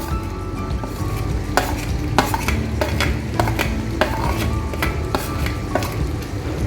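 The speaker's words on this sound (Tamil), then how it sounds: "மூணுத்தையும் ஆட் பண்ணி நல்லா கிளறி விட்டுக்குங்க." Spices being stirred into peanut chicken gravy as it fries, with a steady sizzle and a spoon clattering and scraping against the pan in irregular strokes, close and alone with no talk.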